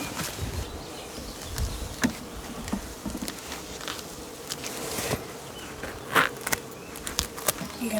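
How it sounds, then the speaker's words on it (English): Honey bees swarm an open hive during an inspection, their buzzing flickering as individuals fly close past, mixed with light tapping and handling noises and no talk. "The deals are full of bees."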